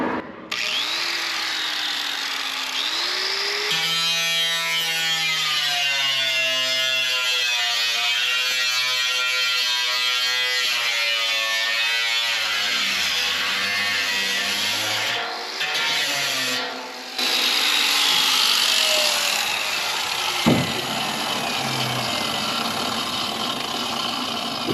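An angle grinder cuts into a steel barrel being made into a burn barrel, with a loud sustained whine that shifts pitch as the disc bites, dips briefly twice, then carries on as a steady harsh grind.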